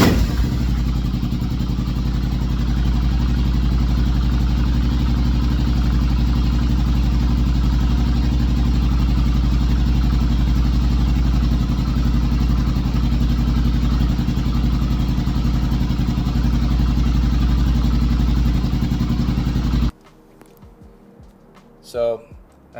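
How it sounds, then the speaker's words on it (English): A motorcycle engine runs at a steady idle after an oil change, a loud, even throbbing hum with a light mechanical clatter lasting about twenty seconds before it cuts off abruptly. "we're going to fire up the bike, let it run for about 30 seconds"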